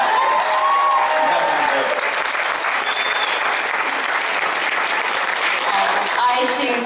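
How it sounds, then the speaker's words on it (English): Steady, loud audience applause with cheering fills an anime convention panel hall for My Hero Academia, sustained throughout with a crowd roar beneath. "Give yourselves a round of applause."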